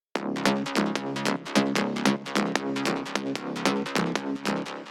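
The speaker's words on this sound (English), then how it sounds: "we have the trance bass. So it's a layer of 3 trance basses." Three layered synthesizer trance basses pump in a hardwave track, with fast punchy repeated notes forming a thick, buzzy pattern that is loud, close and continuous with no voices.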